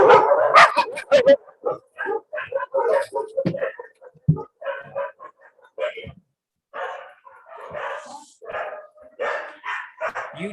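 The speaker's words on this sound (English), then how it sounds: "The little barking you've heard are dogs" Small dogs barking outdoors, giving a few short sharp yips and barks near the start, with someone talking over them throughout.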